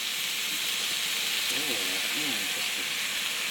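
Potatoes frying with ginger, garlic and ground spices in a pan, giving a steady loud sizzling hiss throughout, with a voice talking faintly underneath partway through.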